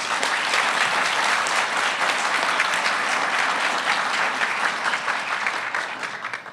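Audience at a special celebration event for The Kalb Report breaking into dense, loud applause that continues steadily throughout, close and full.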